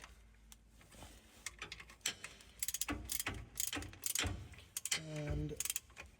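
A ratchet wrench tightens a bolt on a Datsun 620 pickup with bursts of close metallic clicking. The clicks come in uneven runs, with a brief tonal squeak near the end and no talk over them.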